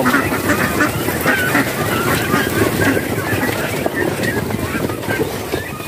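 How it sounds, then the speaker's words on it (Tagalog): Domestic ducks on a backyard farm quack repeatedly in a loud, busy chorus close by, under steady wind rumble across the microphone. "Naiwan na naman yung mga pato dito sa taas."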